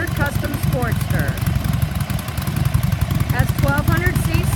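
A 2012 Harley-Davidson XL1200 Custom Sportster with a 1200 cc engine and stock exhaust idles with a steady low, even pulsing, fairly subdued, while someone talks over it.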